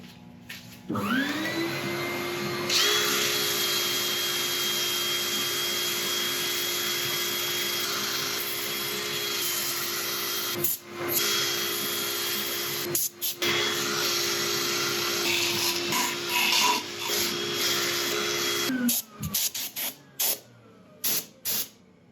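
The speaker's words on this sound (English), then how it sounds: "I'm going to set up for sanding." Elm turnings are sanded on a spinning wood lathe, a steady loud hiss and whine under a constant motor hum that runs for about eighteen seconds, with brief dips, before cutting off into quieter, intermittent noise.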